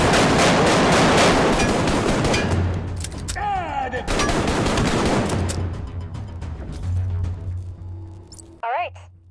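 Gunfire in the Arktika.1 VR shooter, with dense, loud bursts of rapid shots filling most of the clip, some brief pauses and electronic game sounds between volleys.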